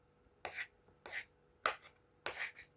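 A knife chopping salad ingredients finely on a board, with four distinct, crisp strokes spaced about half a second apart, close and fairly quiet, with no talk.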